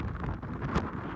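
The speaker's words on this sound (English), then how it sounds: "That wind is freaking brutal out there" Strong wind buffeting outdoors during a Minnesota snowstorm at a concrete plant, a brief loud rumbling gusty roar close to the microphone with no talking.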